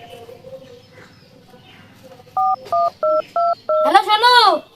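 Five short, evenly spaced telephone keypad tones beep in quick succession over quiet room noise, followed immediately by a loud, wavering, voice-like sound.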